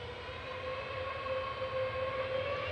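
An EasyJet airliner departs Manchester Airport for Dubrovnik with a loud, steady engine drone carrying sustained whining tones, continuous and close, with no talk over it.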